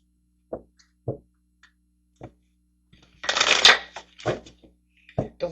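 Tarot cards shuffled by hand during a reading, a few separate soft card taps, then a dense riffling burst and more light taps and flicks, close and clear with no talk.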